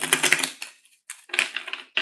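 A deck of tarot cards is shuffled quickly by hand, two bursts of rapid crisp riffling and flapping close up with a short pause between them.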